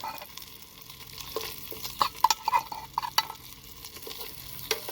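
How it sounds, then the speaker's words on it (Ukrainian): Sausage sizzles and crackles without oil in a pan on a camp stove, with occasional scraping and stirring clatter, fairly quiet and close. "а я хочу додати ковбаску, підсмажити"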